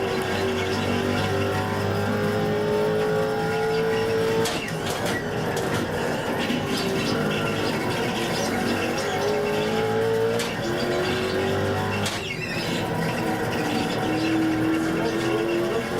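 Ford Mustang and Mazda Miata race car engines in an iRacing GTC league race, steady loud engine drone with rising and falling pitch through gear shifts and braking toward a hairpin, with brief sharp transient bursts.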